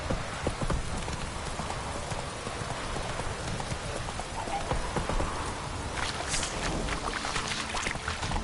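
Roach, the horse in The Witcher 3 video game, gallops with rapid clip-clop hoofbeats over a dense, continuous wash of rain or water noise, steady and fairly loud throughout.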